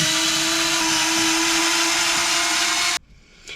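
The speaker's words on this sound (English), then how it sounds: "We will then go ahead and remove the two screws for the battery mount" A power driver whines steadily and loudly for about three seconds, backing out battery mount screws on a Traxxas Slash 2WD chassis, then cuts off abruptly, leaving quiet handling noise.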